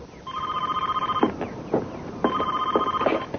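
A telephone rings in a French-dubbed soap opera scene: two loud, close bursts of electronic ringing separated by a short pause, with faint room noise and no talk.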